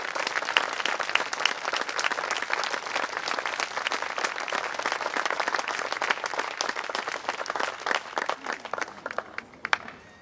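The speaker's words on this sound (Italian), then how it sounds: "chiederei veramente un altro grandissimo applauso per questa orchestra" Sustained applause from a concert audience for a philharmonic wind orchestra, dense steady clapping throughout that thins and tapers off near the end.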